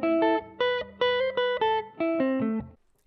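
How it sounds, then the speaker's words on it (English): A clean, unprocessed electric guitar plays a short run of single picked notes with clear attacks and gaps between them, dry and close with no echo or effects. "how to turn this boring dry guitar signal"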